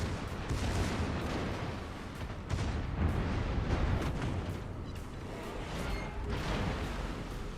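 Heavy warship guns booming in the naval combat game World of Warships, a dense, loud rumble of repeated blasts and rolling explosions that continues without pause.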